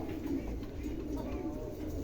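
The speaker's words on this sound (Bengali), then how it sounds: "দেখেন চমৎকার একজোড়া কবুতর, দুটাই অ্যান্ডালুসিয়ান" A pair of Andalusian pigeons coo softly, low rolling calls close by, quiet under a steady background hum.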